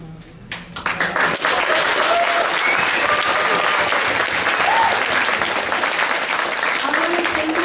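Crowd applause at a political rally in Seattle for the fight for a $15 minimum wage, clapping that swells in within a second and then stays loud and dense, with a few voices rising above it.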